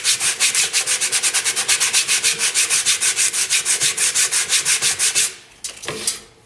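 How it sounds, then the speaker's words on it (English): Sandpaper pressed hard across a Syncork surface, a fast, steady back-and-forth rasp of about five strokes per second, close and loud, ending in a few slower scrapes and brief pauses. "So put a fair amount of downward pressure on that sandpaper and just cover the whole surface in that fashion."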